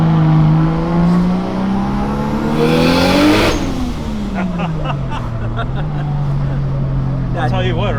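A 2JZ-swapped Nissan 240SX pulls hard under acceleration on wastegate boost pressure, its engine note climbing in loud sweeping rises, then dipping and building again, with people talking over the engine.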